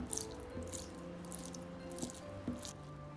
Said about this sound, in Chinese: 杀好水分的豆芽，攥干水分。